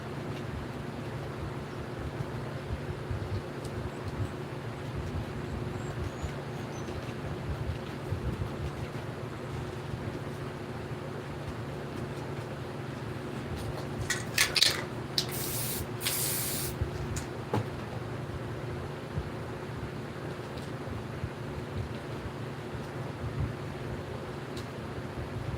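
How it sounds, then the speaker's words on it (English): A spray paint can hisses in two short close bursts against a steady background hum and wind-like rumble while a street-style nature scene is painted with spray paint; the rest stays quiet apart from the low noise. "I'm going to just spray it in here just like I did"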